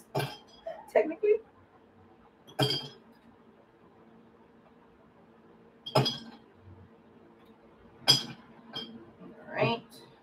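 Ice cubes clinking into a cocktail shaker, a few separate bright clattering bursts spaced several seconds apart in a quiet room, with soft background murmur between them.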